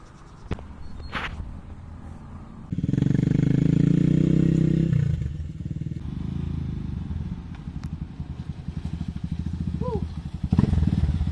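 A KRY 200 enduro supermoto dirt bike engine starts rumbling loudly up close, then settles into a fast, clattering putter, with voices talking over it.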